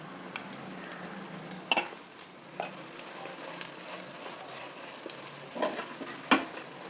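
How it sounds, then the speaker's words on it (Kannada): Cooked rice being stirred into seasoning in a hot pan for a lunch-box rice dish, soft continuous sizzle with scattered scraping and clinking stir strokes, a few sharper knocks standing out, fairly quiet and without talk. "ಈಗ ಇದಕ್ಕೆ ಅನ್ನ ಹಾಕ್ತಾಯಿದ್ದೀನಿ"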